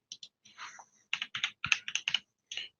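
Fingers type on a computer keyboard while entering an API token name, a quick spaced run of close, crisp key clicks in short bursts with brief pauses between.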